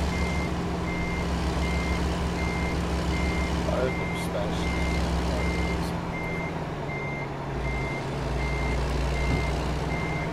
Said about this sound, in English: the truck's really loud